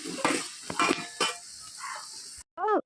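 Three chopped onions fry in hot oil for ghee rice, with a hiss of sizzling under several metallic clinks and scrapes of a spoon stirring in the pan, ending with a brief high whine.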